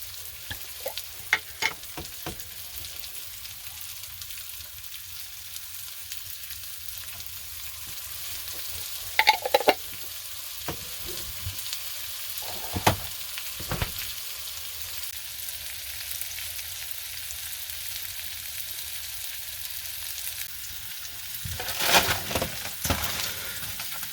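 Minced garlic fries in a pan with a quiet, steady sizzle, broken by a few clinks and stirring scrapes, and no talking.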